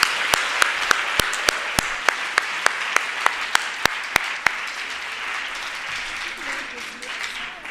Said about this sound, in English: let us give him or her a round of applause